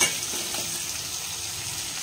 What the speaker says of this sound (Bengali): এখানে সবজিগুলো কালো জিরে ফোড়ন দিয়ে প্রথমে সবজি দিয়ে দিয়েছি, লবণ হলুদ দিয়ে এই যে ভাজছি